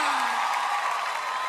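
Live audience clapping at a tenth-anniversary concert, a dense, steady wash of applause with crowd noise throughout.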